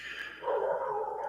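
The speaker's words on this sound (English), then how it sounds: "my dogs are going crazy as usual." Several dogs at home bark and yip excitedly in a dense, continuous burst of overlapping barking that grows louder partway through, fairly close and without pause.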